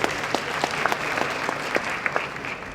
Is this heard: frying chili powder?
no